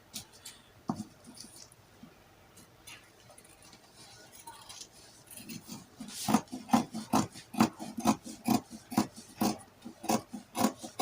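Fabric for a baby gown is cut with scissors, giving a close run of crisp snips and rustles that grows denser and louder in the second half, with no talking.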